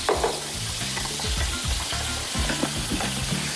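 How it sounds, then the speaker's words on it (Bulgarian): Onions and other vegetables sizzle steadily in clarified butter in a pan, a continuous close frying hiss with soft clinks and stirring scrapes throughout. "Оставям хубаво продуктите да се задушат."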